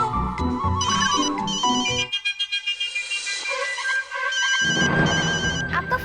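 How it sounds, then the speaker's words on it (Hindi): A melodic electronic ringtone plays loudly, with a repeating tonal pattern, broken briefly by a pulsing buzz before the tune resumes. "आपका फोन बज रहा है।"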